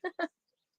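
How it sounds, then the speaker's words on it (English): Two quick honking bird calls in close succession, goose- or duck-like, short and fairly clear, then quiet with only a few faint chirps far off. "Oh, the birds in the background, yeah."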